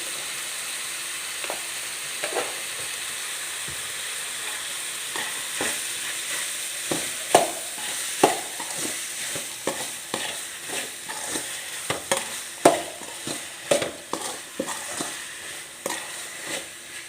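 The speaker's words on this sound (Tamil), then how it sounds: "தக்காளி நல்லா வதங்கட்டும்" Tomatoes sauté in a frying pan for a prawn thokku while a spoon stirs them. A soft continuous sizzle is broken by repeated scraping and clacking strokes that grow more frequent toward the end.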